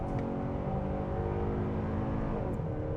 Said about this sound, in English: The engine really making a lot more of a growling noise at us